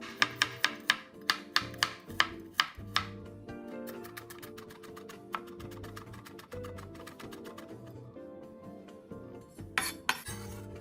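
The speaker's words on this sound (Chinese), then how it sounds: "15克蒜瓣剁细，" Garlic cloves are minced with a knife in quick, rapid chopping taps on a board. A fast run of crisp strikes slows into lighter, steadier tapping, then ends in another quick burst, close and clear with no talk.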